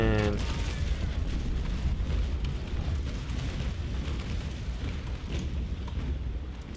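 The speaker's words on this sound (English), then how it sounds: "that broadside could have been better, but it was a broadside at least" A ship's cannon broadside in the naval combat game Naval Action Legends rumbles as a dense, sustained roll of heavy booms, deep and continuous for several seconds, with faint voices beneath.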